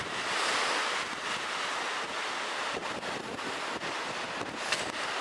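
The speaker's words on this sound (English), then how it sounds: "Man, that wind is shaking it." Strong winter wind buffets the microphone on a snowy night outdoors while filming the full super blue moon, a loud continuous roaring rumble with gusty swells and no talking.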